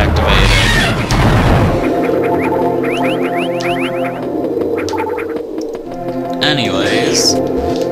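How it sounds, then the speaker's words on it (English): Bombs going off in Metroid Zero Mission, a couple of loud booming blasts up front followed by chirping game effects and music, with someone talking throughout. "just bomb our way through here and move on to the Chozo statue"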